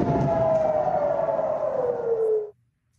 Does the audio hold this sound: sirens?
yes